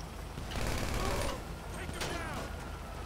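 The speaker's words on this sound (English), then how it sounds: "Why'd you start shooting at him?" Rapid gunfire rattles in a Grand Theft Auto game during a heist shootout with police, a dense burst of overlapping shots at moderate loudness, with a voice faintly underneath.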